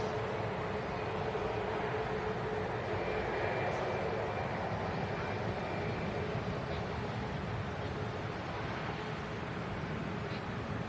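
A Boeing 737 MAX touches down at Manchester Airport, heard as a steady, broad jet roar held at an even level from a distance, with no clear peak or separate events.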